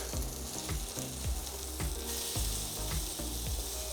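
Chicken burger patties sizzle steadily on a hot griddle, a dense close crackle broken by repeated clinks and scrapes of a spatula about every half second.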